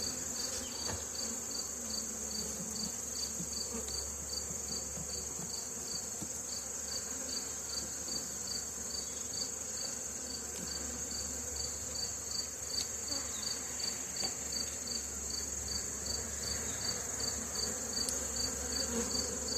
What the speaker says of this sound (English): They're getting a little riled up. Bees out of there.